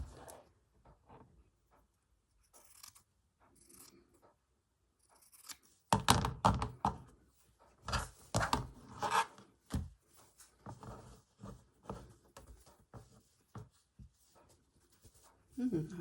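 Scissors cut fabric for a hand embroidery project, with irregular close snips and rubbing scrapes in uneven clusters separated by quiet gaps.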